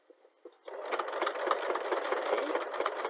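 A sewing machine backstitches back and forth, reinforcing a seam on a turban headband: a few light taps first, then a steady run of rapid needle strokes, close and alone.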